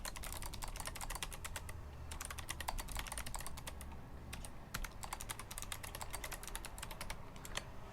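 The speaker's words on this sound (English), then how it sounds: "And I'm typing really, really horribly." Rapid, irregular keystrokes on the Down Bubble prototype keyboard, close and crisp, running in continuous bursts with brief pauses, no voices.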